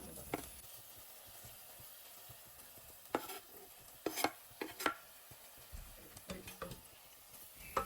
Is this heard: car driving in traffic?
no